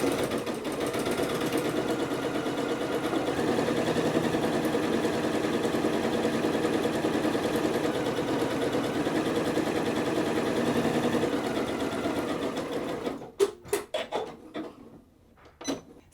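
A sewing machine stitches knit fabric in a steady, continuous mechanical whir and rattle for about thirteen seconds, close and loud, then stops and gives way to a few scattered clicks and handling knocks.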